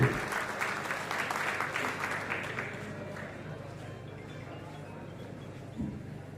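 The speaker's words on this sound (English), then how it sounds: "Please, a big round of applause for Dr. Pooja." An audience applauds a guest speaker at an international conference, with strong clapping at first that gradually thins and softens into scattered claps and room noise.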